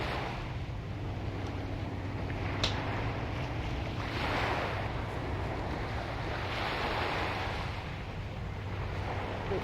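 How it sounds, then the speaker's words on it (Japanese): Continuous wash of sea waves in the Sherlock Holmes: Crimes and Punishments game, a broad steady surf with gentle swells and wind, no voices. "海の音がする。"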